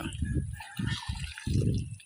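A flock of fifty or more ducks splashes and plays in village water, making repeated low, choppy bursts of sloshing with short pauses, fairly close.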